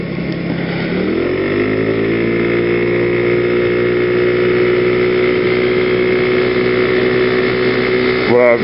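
Scooter engine on a country ride after a December snowstorm, close and loud, rising in pitch as it accelerates in the first second, then holding a steady droning note the rest of the way.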